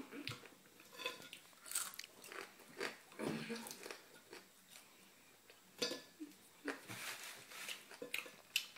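Someone eating bacon during a 625-gram bacon eating challenge, with wet, irregular chewing and biting bursts close to the mic and a few short voices in between.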